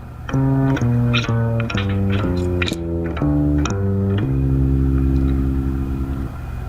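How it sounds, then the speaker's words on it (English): A plucked bass walks through a steady jazz line of evenly spaced notes, one per beat, ending on a held low note, with light cymbal taps above. "This is called a walking bass and sounds like this"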